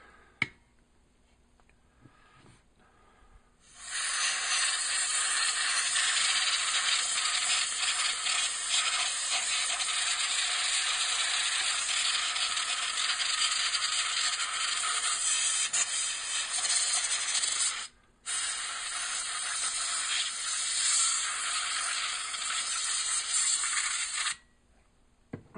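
A compressed air duster fitted with a straw blasts dust out of a PC's heatsink and interior: a loud steady hissing jet lasting about fourteen seconds, a brief pause, then a second long blast, close and alone.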